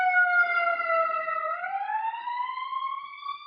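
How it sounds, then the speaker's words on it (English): A siren wails from passing police cars and an ambulance, one steady harmonic tone that dips in pitch, then climbs and holds, loud and close with no talk. "I've seen 2 police cars, 1 ambulance kind of go by"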